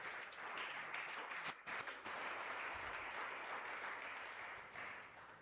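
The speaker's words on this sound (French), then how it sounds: "Acclamons très fort" A church congregation applauds loudly during a fasting and prayer marathon service, a dense, sustained wash of clapping that briefly dips near the middle before swelling again, with no talking.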